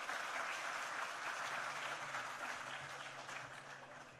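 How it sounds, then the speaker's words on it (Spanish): An audience at an inauguration ceremony in Duarte province claps for the engineering team. The steady applause is fairly faint and distant, and it slowly fades. "un fuerte aplauso para cada uno de ellos."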